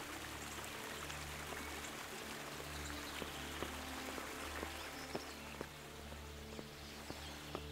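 Water from a stream in Kingdom Come: Deliverance flows and trickles steadily at low volume, a soft continuous rush with occasional small drips, over a low ambient hum.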